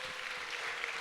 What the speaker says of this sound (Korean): 모두 환영의 박수 한 번씩만 부탁드려요.